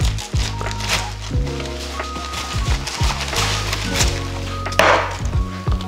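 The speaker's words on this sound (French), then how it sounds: "Alors pour le chou, on va le couper donc en deux." Knife chops down through a cabbage on a wooden board, a few sharp woody thuds and cracks close by, with music playing underneath.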